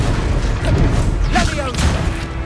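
A Confringo spell blast in Hogwarts Legacy: a loud booming magical explosion with whooshing, crackling bursts over a steady rumbling game soundscape, no voices.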